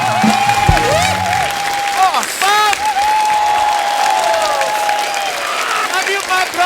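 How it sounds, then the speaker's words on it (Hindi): Studio audience on a Hindi TV comedy show breaking into loud, sustained applause, mixed with music and a voice over the crowd throughout. "जोरदार तालियां हो जाए"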